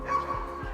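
A pet dog gives a short, fairly quiet bark or yip indoors, with a faint voice in the background.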